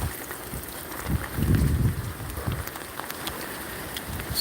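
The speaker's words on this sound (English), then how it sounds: "of flipping rain that are coming down." Heavy rain from Hurricane Milton beats steadily on surfaces outside a Florida home, a dense wash of drops with wind gusts swelling and easing, loud and close.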